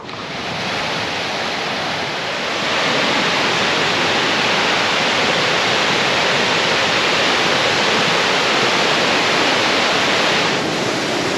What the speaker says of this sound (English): It's actually a really beautiful waterfall.